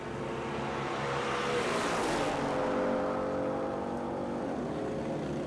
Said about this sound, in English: The 5-cylinder Ford Mustang makes its way down the straight towards us now.